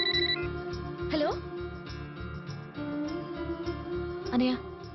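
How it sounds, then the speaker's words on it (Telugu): A telephone rings in a home, a brief electronic ring standing out for a moment amid steady music and background sound, with a second short burst of ringing near the end. "అనయ్య, ఫోన్."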